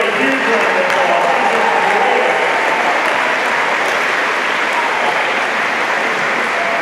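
Audience applause for Melissa Ryan at a freshmen orientation closing ceremony, dense sustained clapping from a large crowd, loud and even throughout.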